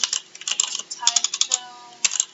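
Rapid keystrokes on a computer keyboard, close and crisp, come in uneven bursts with short pauses while a trip's details are entered into an Android app.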